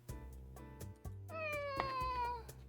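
A cat meows in the video game Dandelion, a drawn-out, pitch-gliding meow rising out of soft game music with light taps, close and clear near the middle.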